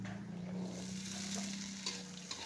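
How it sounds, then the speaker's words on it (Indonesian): Shallots and garlic stir-fried in a pan, a steady close sizzle with faint stirring scrapes and a low hum underneath. "bawang merah dan bawang putih ya. Kita oseng-oseng dulu ya. Kita tumis ya."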